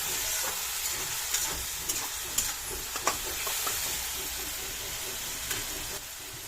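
Onion and tomato frying slowly in a pan for a Bengali chicken kosha, giving a dense, even sizzle close by, broken by a few sharp scrapes and taps of a stirring spoon.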